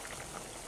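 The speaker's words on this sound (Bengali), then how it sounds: "ডালটা ফুটে গেছে।" Pea lentil dal bubbling in a pot, a soft, dense simmer of small popping bubbles heard alone and close for a brief moment.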